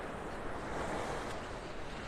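Ocean waves wash onto a beach in North Naples, Florida, a continuous rushing surf with wind noise over the microphone, steady and fairly close, no voices.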